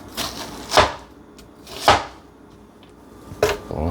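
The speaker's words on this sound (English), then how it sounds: "We'll chop our onions next." Onions being chopped with a knife on a cutting board for a charred tomato salsa, three separate firm chops spaced about a second apart, close and clear with no talking.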